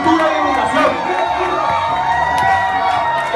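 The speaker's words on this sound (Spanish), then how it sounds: "Un aplauso para este público." A karaoke contest crowd in Tipitapa cheers and shouts loudly and continuously, with whoops rising over a dense wall of voices and some clapping.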